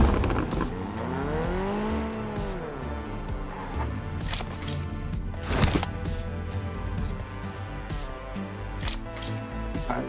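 An SSC Tuatara sports car engine in a video game revs and whines with rising and falling pitch, tires squealing briefly, in a synthetic game-like mix at moderate volume.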